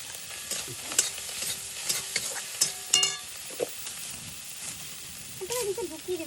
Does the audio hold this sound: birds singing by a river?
no